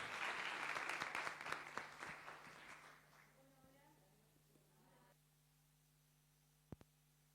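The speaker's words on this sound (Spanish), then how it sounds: "Un aplauso para ellas" An audience claps loudly for a few seconds, then the applause fades into a low hum, with a couple of faint knocks near the end.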